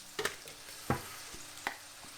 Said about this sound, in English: while them mushrooms are frying up